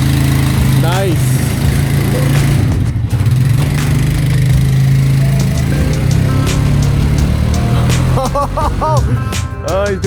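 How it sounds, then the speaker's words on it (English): A ute doing a four-wheel burnout shed skid inside a garage in Australia, its engine droning loudly and steadily with tyre squeals rising near the end, while people talk over it. "Oh, he's doing a four-wheel shed skid."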